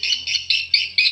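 Swiftlet call played as a lure sound: five rapid, loud chirping bursts in steady rhythm, close and clear with no other sounds.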